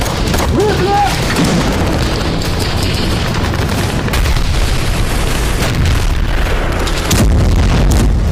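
Loud, heavy booms of artillery shelling and bombing in a war zone, rumbling blasts over a constant roar with a voice speaking over them.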